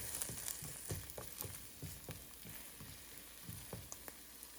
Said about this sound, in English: Add the diced onion to the skillet and saute the onion for a few minutes.